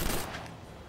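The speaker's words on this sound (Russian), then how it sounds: "Следующий спешл — это стрельба из пулемета вверх." Deathstroke fires a machine gun upward as an anti-air special in the fighting game Injustice: Gods Among Us Ultimate Edition, a brief loud burst of gunfire that fades quickly into a low rumble.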